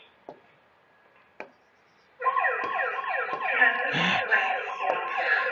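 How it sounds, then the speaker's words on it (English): A loud wailing campus lockdown siren starts after a couple of quiet seconds with faint clicks, then sounds continuously with rising and falling tones. "if you were to hear that siren come on"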